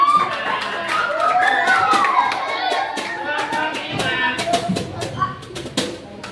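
Classroom applause for a student group: a scattered round of hand clapping from a class, moderately loud, with voices and background noise mixed in.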